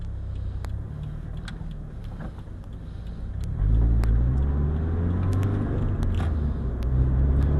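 Idling engine of a Scion FR-S rumbles steadily at close range, its low drone swelling louder midway as the car is put in gear, with small clicks and cabin handling noises on top.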